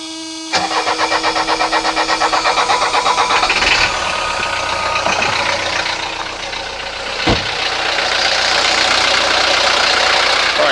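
A 1983 Mercedes 240D diesel warmed by a block heater cranks in a rapid rhythmic churn for a few seconds, then fires and settles into a loud clattering idle close by.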